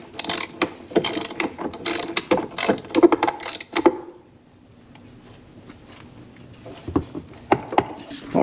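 Small parts being tightened back together after a battery replacement, giving a run of quick ratcheting, clicking mechanical bursts up close, a pause of quiet, then a few more clicks near the end.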